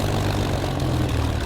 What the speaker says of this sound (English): Plane just passed by.